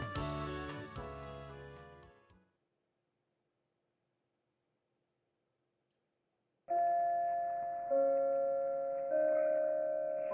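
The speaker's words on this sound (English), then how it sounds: "The instant the bell ended," A school bell chime from the visual novel game Yosuga no Sora sounds loud and sustained. It fades to silence, then a softer sustained chime sequence starts again.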